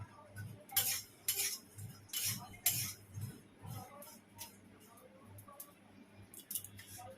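Roasted homemade biryani spices tipped from a pan into a container, a quiet run of scraping and metallic clinks in uneven bursts, close and faint with brief pauses between scrapes.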